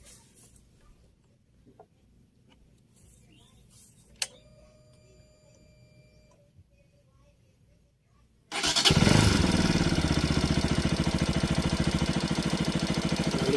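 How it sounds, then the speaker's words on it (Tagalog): A Kawasaki RS200 motorcycle engine catches abruptly after several seconds of near-silence broken by faint clicks, then settles into a loud, steady, close-range idle that runs to the end. "Pandarin natin yung motor."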